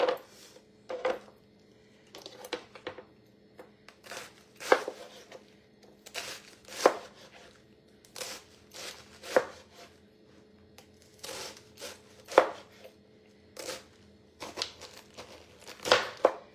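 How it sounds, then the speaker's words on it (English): Cabbage being chopped with a knife on a board, close and crisp, in irregular bursts of sharp cuts with short pauses between them and no talking. "So I'm just going to cut this up and put it in a separate pot."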